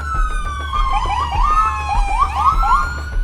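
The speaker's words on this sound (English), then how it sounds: "The ambulances are arriving with lights and sirens." Several wailing ambulance sirens sweep up and down in overlapping tones as emergency vehicles arrive at a building collapse mass casualty scene, loud and close over a low rumbling engine and road noise.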